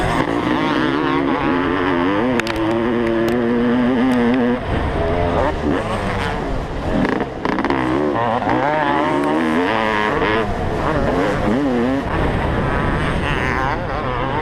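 A 32-year-old Honda CR500 and modern dirt bikes race uphill on a hillside track, their loud engines revving with rising and falling pitch throughout as a commentator talks over the racket.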